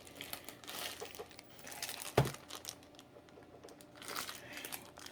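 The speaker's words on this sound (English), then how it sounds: "I apologize for the crinkling" Crinkly plastic packaging around a candle being handled, soft rustling and crackling in bursts with one sharper crunch midway, fairly quiet and close, no speech.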